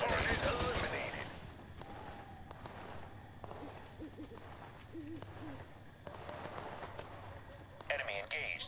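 Total Conflict gunfire, a loud burst of rapid shots at the start, then scattered distant shots and crackle under radio-style voice callouts.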